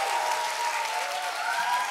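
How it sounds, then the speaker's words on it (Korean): An audience gives sustained applause as a short mini lecture begins, many hands clapping in an even, continuous wash that is moderately loud and close. "자 그럼 우리 안영일 마스터의 우리 짧은 미니 강연 큰 박수로 청해드리겠습니다."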